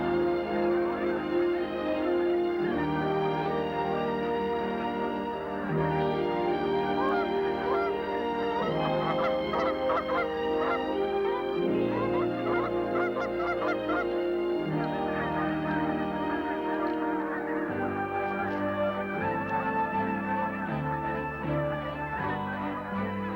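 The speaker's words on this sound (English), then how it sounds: "the vast skies echo with the ancient call that beckons the wild birds to their nesting" Canada geese honking in flight, a dense overlapping chorus of many calls that carries on loud and unbroken across the whole stretch, with no pauses between the voices.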